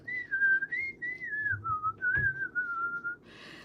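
A woman whistles a wavering melodic tune alone, close and clear, with a brief soft knock midway and a hiss of noise at the very end.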